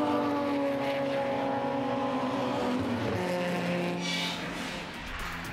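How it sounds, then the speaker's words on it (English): A BMW race car, in a Castrol BMW Open Series race at Hampton Downs, roars loudly past the finish line, the engine note sweeping down as it goes by and then fading. "There he is now, crossing the line, but Mike Delmont takes the victory for the Castrol BMW Open Series."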